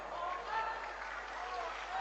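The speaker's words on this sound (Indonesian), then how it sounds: "Tepuk tangan melulu." Dense, sustained clapping from an audience at an Islamic religious lecture given by a preacher, a steady crackle of many hands that stays loud throughout, with a voice faintly under it.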